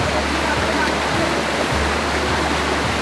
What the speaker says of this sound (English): the Ravana Falls, which is the widest waterfall in all of Sri Lanka